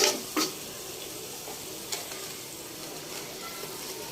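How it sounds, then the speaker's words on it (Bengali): Spices sizzle quietly in hot oil, a soft continuous hiss marked by a few sharp clicks and taps as a utensil stirs the pan, with no talking. "মশলাগুলো ভালোভাবে কষিয়ে নিব যতক্ষণ না তেল ছেড়ে দিচ্ছে।"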